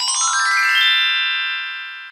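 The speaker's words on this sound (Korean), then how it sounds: "왜 전화를 안 받아?" A mobile phone ringtone chimes alone, a bright electronic melody whose tones settle into a sustained ringing chord that slowly fades over about two seconds.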